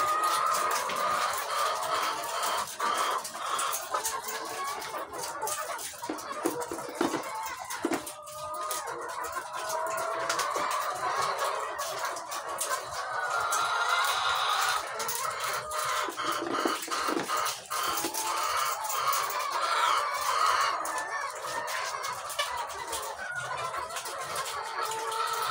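Laying hens, about a month into laying, cluck and chatter continuously in a close, dense flock throughout, with occasional louder squawks standing out from the steady murmur.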